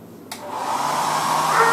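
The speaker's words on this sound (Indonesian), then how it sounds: "pengering rambut." A hotel bathroom hair dryer switches on with a click and then blows with a steady, loud whooshing roar that holds constant to the end.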